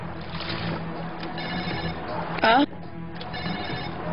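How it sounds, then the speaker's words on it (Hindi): A telephone rings repeatedly in short bursts against a busy background with voices and music-like tones, one loud tonal blip standing out midway. "इस वक्त किसका फोन आ गया?"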